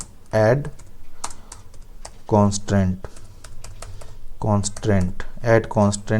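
SQL commands are typed on a computer keyboard, with rapid bursts of key clicks close by, heard between and under a man's speech.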